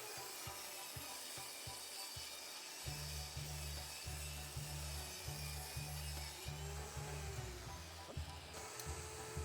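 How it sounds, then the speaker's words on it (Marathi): Wood being sawn into four square legs for a chair, a faint, steady series of rhythmic back-and-forth strokes that grows more regular partway through, heard alone. "त्या दोन पायांना चारही बाजूने थोडं थोडं कापून आपल्याला हवं असलेला म्हणजे सव्वा इंच बाय सव्वा इंच या मापाचे चार पाय तयार करून घेऊया"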